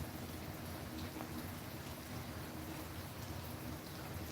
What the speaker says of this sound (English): We just got rained on pretty heavy.